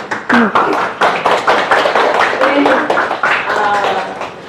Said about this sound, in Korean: 오은정 사장님 모실 때 큰 박수 부탁드릴게요, 여러분.